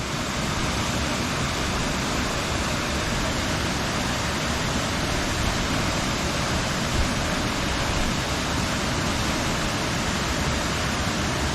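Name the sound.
waterfall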